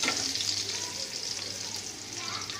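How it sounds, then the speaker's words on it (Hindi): Chopped garlic frying in a pan until golden brown gives a soft, continuous sizzle and crackle close by. A low hum runs underneath, and no one speaks over it. "गोल्डन ब्राउन हो जाए लसन साडा"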